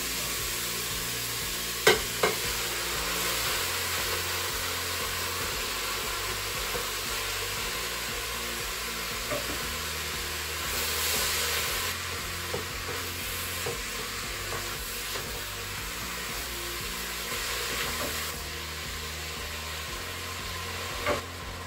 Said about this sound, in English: Now the onions and the peppers have had a few minutes to fry, we want to add our mince.